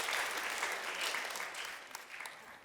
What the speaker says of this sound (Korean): 다 박수로 환영하도록 하겠습니다.